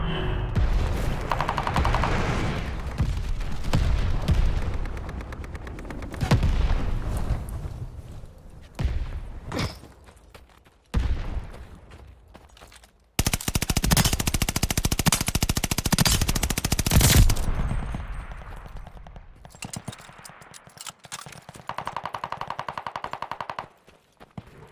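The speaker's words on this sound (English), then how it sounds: "Friendly, sending a glide bomb." Call of Duty: Vanguard combat with a glide bomb strike: dense bursts of machine-gun fire and sharp gunshots, broken by heavy booming explosions, loud and nearly continuous with brief pauses between barrages.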